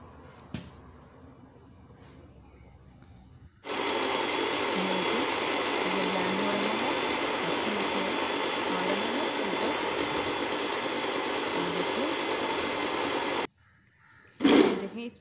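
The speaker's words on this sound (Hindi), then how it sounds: "अब ये देखिए, मैं इसको ब्लेंड करने लगी हूँ" Blender churning cream with cold water into homemade butter, a loud steady whirring motor running for about ten seconds with slight pitch wobble, starting and stopping abruptly, faint sounds before and after.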